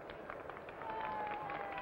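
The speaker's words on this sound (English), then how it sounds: "The crowd responds with some applause." A baseball stadium crowd at Game 7 of the 1960 World Series gives some applause, heard as a steady, distant wash of clapping and crowd noise with faint voices mixed in.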